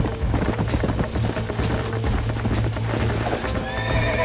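A horse in the Red Dead Redemption game whinnies loudly while its hooves clip-clop in a steady rhythm underneath, the neigh rising clearly over continuous hoofbeats and game ambience.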